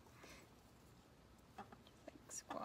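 A chicken squawks and clucks in a few short, sharp bursts near the end, fairly close, over quiet background with soft human voice sounds.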